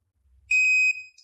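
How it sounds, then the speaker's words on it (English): A single short electronic beep from a remote dog training collar, high and clean, lasting about half a second, with a faint low rumble before it. "Once it beeps and blinks at you"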